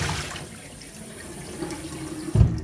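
A kitchen tap runs with a soft, steady stream of water that continues throughout, and a louder splash or clunk comes near the end.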